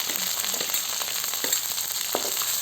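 Garlic and onion, with curry leaves, sautéing in a pan for a Tamil manathakkali vathal kulambu, a steady close sizzle with a few scraping stir clicks, no talk.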